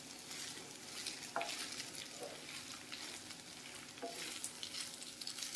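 Putnala spice powder is stirred into okra rice in a pan with a continuous scraping, shuffling stir over a faint sizzle. A couple of sharper ladle clicks stand out, and no one speaks.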